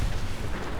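Self-destruct blast in the video game Fallout 4, a short, loud, low rumbling boom that fills the whole moment, with no speech.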